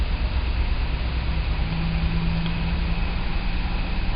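A 1985 Buick Century 2.8L V6 engine held at a raised, steady rev with the gas pedal down, a constant droning hum running without break, loud and close.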